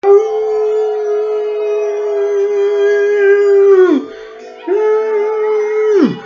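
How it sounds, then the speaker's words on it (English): Two long, loud wolf howls, each a sustained tone that sags and drops at the end, separated by a brief pause. "I know, not a wolf again."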